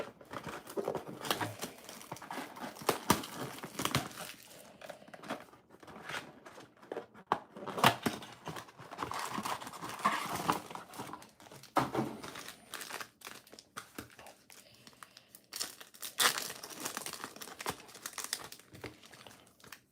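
NFL Mosaic trading card packs torn open one after another, with loud crinkling foil wrappers, sharp tearing and rustling in uneven bursts, close up and without talk.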